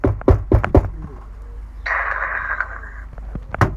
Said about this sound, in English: There's the drawer noise.